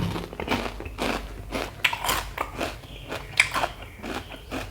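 Crispy pork rinds bitten and crunched up close alongside a spicy Thai pork mask salad, a steady run of dry crackling crunches without speech.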